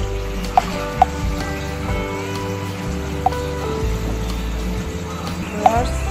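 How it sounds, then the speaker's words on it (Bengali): Spice paste of panch phoron, cumin, coriander powder and turmeric fries in a pan on medium flame, giving a steady low sizzle with a few small sharp pops, fairly close, with a voice talking over it. "2-3 মিনিট মশলাটা কষিয়ে নেব"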